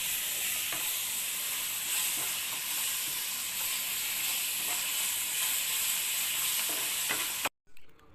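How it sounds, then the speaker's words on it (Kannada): A ground spice paste of turmeric and coriander frying in a pan for a fish egg curry, a dense, continuous loud sizzle with a few soft stirring clinks, cutting off abruptly at the end. "ಇದನ್ನು ಫ್ರೈ ಮಾಡಬೇಕು ಚೆನ್ನಾಗಿ."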